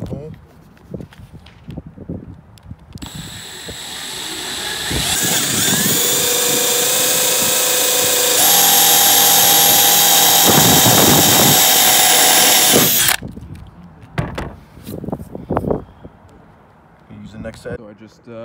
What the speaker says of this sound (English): that's where we're going to be drilling our second hole.